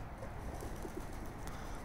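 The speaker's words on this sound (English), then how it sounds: "That is a few pigeons right here." A few pigeons gather near a doorway, their soft cooing and bird calls running steadily beneath a low, continuous background rumble with no talking.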